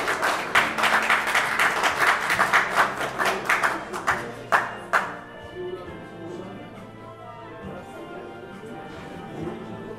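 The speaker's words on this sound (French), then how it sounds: "vous pouvez applaudir bien fort" A ceremony audience applauds at a semikha celebration: loud, rapid crowd clapping for about five seconds, then it quickly fades out. A quieter murmur of room sound follows, and a voice speaks faintly over it.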